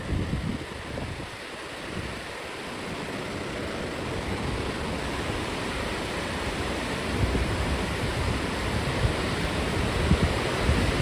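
Cold ocean surf at a Rhode Island beach washing around bare feet, a continuous broadband roar of water and wind that stays loud and close throughout, with no talking.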